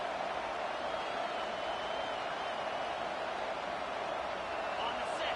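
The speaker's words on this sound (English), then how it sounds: "This crowd bringing serious noise on this huge 4th down play" Steady, dense roar of a stadium football crowd building noise ahead of a fourth-down play, a continuous wash of massed voices at constant loudness with no distinct cheers or applause bursts.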